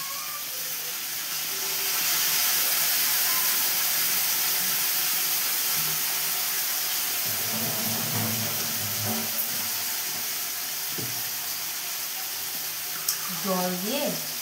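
Spice paste of cumin powder, coriander powder, chili and ginger paste sizzles in a pan with fried potato, cauliflower and onion: a steady, fairly loud frying hiss with a few light clatters of stirring near the end.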